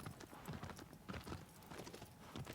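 Quick, steady clip-clop of horse hooves trotting in the video game Shadow of the Colossus, close and fairly quiet, with a faint game-like ambience behind it.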